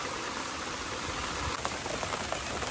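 Heavy rain falling hard outdoors on a fishing trip, a thick continuous rush with a low rumble underneath and a few louder spatters near the end, with no one speaking.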